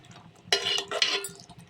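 Egg and tomato curry being stirred in a pan, with a spoon scraping and clinking against the metal in two short bursts amid quiet kitchen background.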